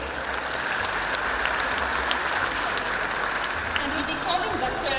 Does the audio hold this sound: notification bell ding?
no